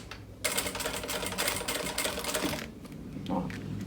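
Sewing machine stitching seams on a handmade backpack, a dense rapid mechanical whirr starting abruptly after a short pause, running steadily for about two seconds, then easing off into quieter handling.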